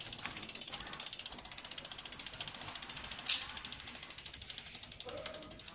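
Freewheel ratchet of a Giant ATX 850 mountain bike with an SLX derailleur, clicking in a fast, steady rapid-fire buzz at close range, with a brief louder burst midway and no talk.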